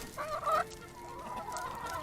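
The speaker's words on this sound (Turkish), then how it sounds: "Tavuklarımız burada geziyorlar." Backyard chickens clucking in a garden, a louder burst of clucks near the start followed by softer, continuous murmuring calls from the flock close by, with no talking.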